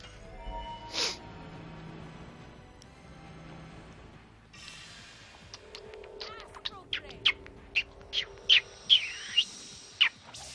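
Birds chirping in a role-playing video game scene, a run of short bright tweets in quick succession rising near the end, faint over a quiet soft background.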